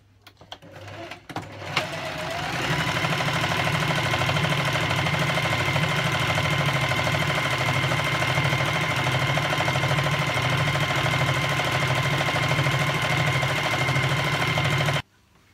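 A sewing machine stitches the leg seam of pyjama bottoms, starting after a few clicks and then running at a steady, even, close-up whir for about thirteen seconds before stopping abruptly.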